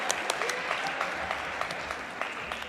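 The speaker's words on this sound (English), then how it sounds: "Can I have some applause for our officials tonight, please?" Crowd in a school gym applauding the officials at a high school volleyball match, steady clapping with a few sharp individual claps standing out, moderately loud and continuous.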